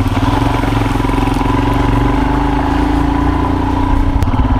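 A motorcycle descends a hill in second gear on a foggy Ladakh road, its engine running loud and steady close by, with continuous rumble and no pauses throughout.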